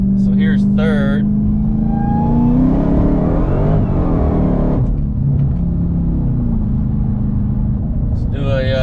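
A Dodge Hellcat Charger making about 860 wheel horsepower accelerates hard in third gear, its engine note climbing in a loud, steady rise before easing off, with someone speaking briefly near the start and again at the end.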